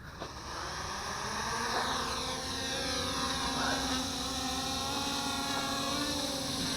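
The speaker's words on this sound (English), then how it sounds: "taking to the air" MJX Bugs 6 FPV racer drone with its motors spun up in flight, a steady high-pitched whirring buzz with shifting tones, close and loud throughout.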